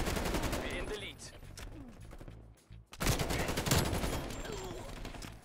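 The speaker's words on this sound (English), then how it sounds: "He's shooting at Sly and I walk straight into it" Bursts of automatic gunfire in the video game Call of Duty Cold War, loud and dense, dropping out briefly before resuming heavily, with game voices mixed underneath.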